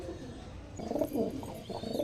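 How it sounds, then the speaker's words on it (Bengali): Andhra pigeons coo in soft, throaty rolling bursts from close by, starting after a quiet moment and repeating several times. "এই হচ্ছে বন্ধু আমার সব থেকে প্রিয় পায়রা"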